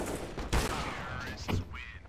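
A shooting video game fires bursts of gunfire, with two sharp volleys about a second apart, mixed with game sounds and a voice in the background.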